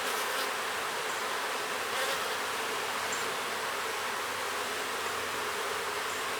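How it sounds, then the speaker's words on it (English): Honeybees swarm over an open hive box during a frame inspection, a dense, steady buzzing close by that holds at an even level throughout, with no voices. "I'm just going to give them a gentle shake right over the box just to get some of those bees off of it."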